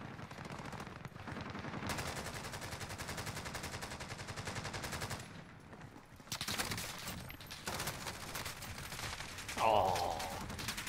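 Sustained rapid automatic gunfire in a video game, long dense bursts of machine-gun fire with a brief pause before the shooting resumes, continuing nearly throughout.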